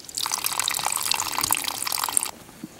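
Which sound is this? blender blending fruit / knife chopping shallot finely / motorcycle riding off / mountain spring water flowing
mountain spring water flowing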